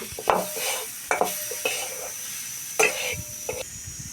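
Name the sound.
wild brinjal frying in pan with onion and chilli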